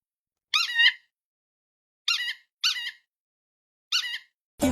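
A small hand-squeeze toy horn that needs no wiring or electricity is pressed four times indoors. Each press gives a short, bright, squeaky honk, separated by silence, and a sharp burst of noise comes right at the end.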